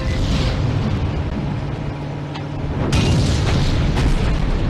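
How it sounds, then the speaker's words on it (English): Molotov cocktail exploding in the PS1 game Medal of Honor: Underground, a deep rumbling boom that swells into a louder burst partway through amid game noise. "a big kaboom at the end, and now we've got Molotov cocktails, petrol bombs"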